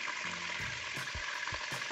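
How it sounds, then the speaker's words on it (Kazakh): Meat frying in hot oil in a kazan cauldron for Kazakh palau (plov), giving a steady close sizzling hiss with a few soft knocks and bumps throughout, no talking. "қызарғанша жақсылап қуырамыз"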